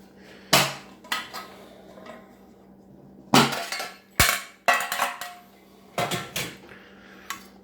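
Bread being put into a metal mess kit, with sharp metallic clanks and clatters in several separate bursts, close and loud, and quiet pauses between them.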